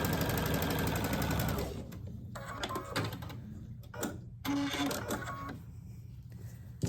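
A sewing machine stitches diagonally across a seam joining quilt strips for a log cabin panel, a steady mechanical whir that runs loud for the first two seconds, then gives way to quieter intermittent clicks and rattles.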